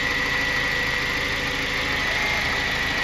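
A car engine idles steadily during spark plug wire testing, a close, even mechanical hum with a faint high whine, unchanging and alone for the whole stretch.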